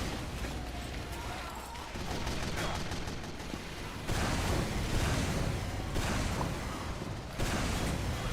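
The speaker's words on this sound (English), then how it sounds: "I didn't mean to shoot that last rocket" Rockets fire in Team Fortress 2, several blasts that each step the noise up, at about two, four and seven seconds, over a constant wash of battle noise, fairly quiet overall.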